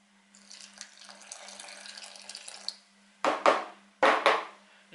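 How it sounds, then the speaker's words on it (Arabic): Warm water pours into a bowl of flour, sugar and yeast for Tunisian fricassé dough, a soft trickling stream followed by two louder splashing pours, close and alone over a faint kitchen hum. "شوية ماء دافي"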